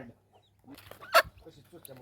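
A hen clucks among her chicks, soft low clucks and one sharper squawk near the middle, with a person talking quietly nearby.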